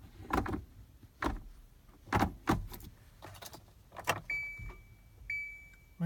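A key jiggled in the ignition of a Kia Soul that won't start: scattered clicks and metallic rattles come close up, joined near the end by brief electronic chime tones.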